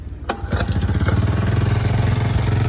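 A Honda TRX90 ATV engine, rebuilt with a new top end and carburetor and converted to two-stroke, cranks and then catches into a loud, close, steady rapid putter that keeps running on its own.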